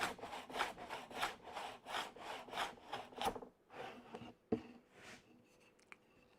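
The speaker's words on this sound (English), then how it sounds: "I'm using the big plane because it's got some beef behind it, so I'm going to give it a bit of speed." A large hand plane runs along wood on a 45-degree shooting board, making a series of rhythmic rasping strokes that are fairly faint and close, then slowing to a few scattered knocks.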